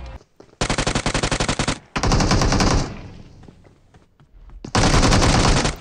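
Automatic rifle fire from the battle royale shooter PUBG Mobile rattles in loud bursts, first a fast clipped string, then longer sustained volleys with a brief lull between them.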